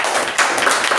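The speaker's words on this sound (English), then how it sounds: "a round of applause for the speaker and the evaluator" A round of applause at a Toastmasters club meeting for a speaker and evaluator, a short, dense burst of clapping heard close and fairly loud.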